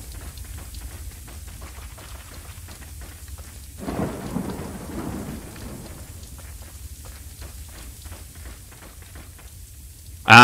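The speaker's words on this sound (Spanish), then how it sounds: "No para llover." Steady rain hisses throughout Resident Evil 4, with a low rumble of thunder swelling around the middle and a sudden loud burst at the very end.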